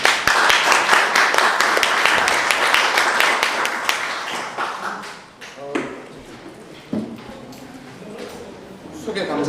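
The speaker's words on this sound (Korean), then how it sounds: "큰 박수 부탁드리겠습니다." Audience applause at a launch ceremony for a civilian fact-finding committee, dense clapping that rises loudly at first and then thins and fades, with scattered claps and some murmuring voices near the end.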